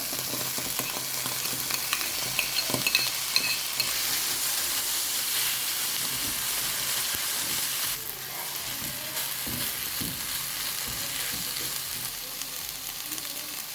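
Tomato paste and tomatoes stirred into a frying pan while cooking ossobuco, giving a steady, close sizzle and hiss with scraping stir strokes throughout, a brief shift near the middle as more goes in.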